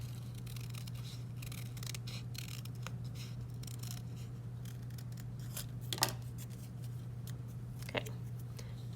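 Scissors snip through paper while shapes are cut out for a collage mask, making quiet, close clicks and crisp cuts over a low steady hum. No one speaks.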